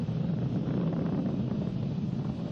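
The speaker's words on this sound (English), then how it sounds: "Vehicle is supersonic. We've exceeded Mach 1 on the Falcon 9." A SpaceX Falcon 9 rocket in supersonic ascent past Mach 1, a distant, steady low roar with a rumbling broadband texture, constant and unbroken throughout, with no voices.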